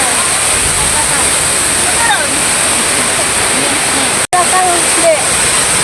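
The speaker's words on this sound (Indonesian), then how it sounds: "Kita lihat ke belakang teman-teman, air terjunnya." A waterfall roars as a loud, constant broadband rush heard from a distance along a footpath, with faint birdsong over it and a brief dropout near the end.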